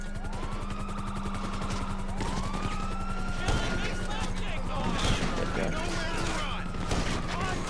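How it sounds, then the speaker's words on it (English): Gunfire in the video game Grand Theft Auto V crackles in rapid, dense bursts with sirens wailing behind, a loud, continuous firefight under excited talking. "just standing here getting shot at and firing bullets into people"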